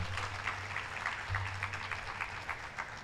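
An audience at a university parents and family orientation gives a round of applause for the guild president. The clapping is moderate and steady over a low background hum.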